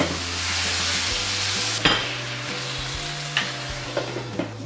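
Chili beans sizzle steadily in a pan while being stirred, a dense close frying hiss broken by a few scraping stir strokes and soft knocks.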